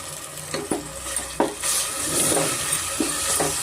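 Masala paste for green egg biryani fries in oil, giving a steady close sizzle with a hissing wash, broken by several sharp scrapes and knocks of stirring.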